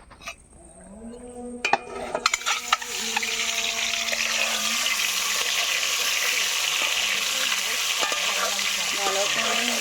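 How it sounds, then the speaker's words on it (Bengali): Eggs rubbed with salt and turmeric fry in hot oil in a wok, starting with a few clanks and stirring knocks, then settling into a loud, steady, close sizzle that holds to the end. "তো কড়াইতে তেল দিয়ে এখন ডিমগুলোকে ভেজে নেব"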